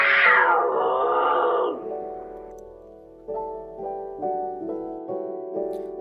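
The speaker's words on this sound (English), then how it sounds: "Lynx." A lynx gives a long, wavering moan-like call that starts loud and high, then falls to lower, softer, cat-like wailing notes that repeat a few times with no voices present.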